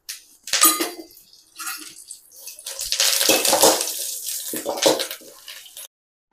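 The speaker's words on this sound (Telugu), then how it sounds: "ఇప్పుడు ఇవన్నీ బాగా ఫ్రై చేసుకుందాము సన్నటి మంట మీద." Red chillies and curry leaves fry in oil over a low flame while making nalleru podi, giving a close, crackling sizzle that swells and fades in uneven bursts, with no talking.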